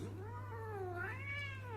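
A cat gives a single long, rising and falling meow, close and clear, over a low steady hum, with no talk.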